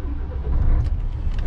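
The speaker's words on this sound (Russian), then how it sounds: "Все, завели машину." A Mercedes Actros 1844 truck's diesel engine turns over and settles into a deep, steady low rumble, close and loud, with no voices.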